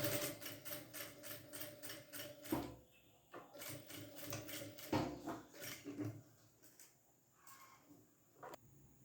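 A sewing machine stitching a diagonal seam across fabric, quiet rapid mechanical chatter in short runs with brief pauses between them, close by and alone.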